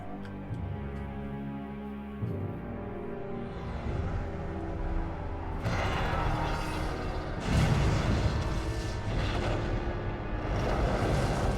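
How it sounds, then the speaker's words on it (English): Heavy explosions from a bombing run in the video game Metroid Prime 3 swell into loud, rumbling blasts about halfway through and keep booming over a steady din of game music and effects. "Just gonna order a bombing run on your thing there."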